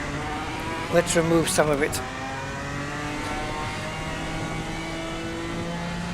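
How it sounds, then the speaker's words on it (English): A GT4 race car in Assetto Corsa Competizione drones steadily, with a brief stuttering engine burst as traction control cuts power, then settles back to a level hum while a voice talks over it. "You hear that traction control? Yeah, just stopping the power from coming in."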